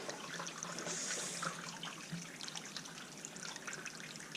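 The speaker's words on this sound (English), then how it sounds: "And fill up my water bottle from the trickle down here." Steady trickle of stream water running into a water bottle, a continuous soft splashing hiss with no break, close by.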